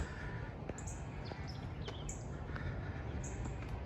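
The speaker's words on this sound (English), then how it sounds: "You can hear bird songs on either side of the trail." Birds singing in scrub on either side of a paved trail in Boynton Beach, Florida, a cardinal among them; short high chirps and whistles repeat at a moderate distance over steady outdoor background noise.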